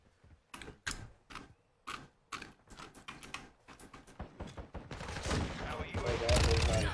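A Fennec submachine gun firing in a video game: a series of sharp, evenly spaced shots that grow denser and louder into sustained bursts toward the end.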